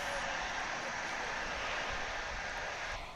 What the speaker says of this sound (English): Here comes American Flight 1760 from Austin, Texas. Then Airbus A319.